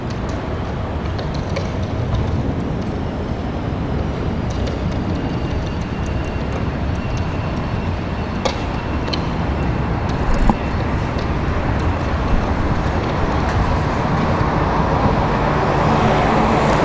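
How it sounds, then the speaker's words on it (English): A Boeing 777-200 arriving from Rome roars at a distance as it comes in to land at Washington Dulles, a constant broad jet rumble with faint scattered background sounds. "That 777-200 coming in behind us here, that one from Rome."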